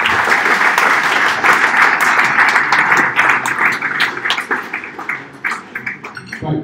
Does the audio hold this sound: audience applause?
yes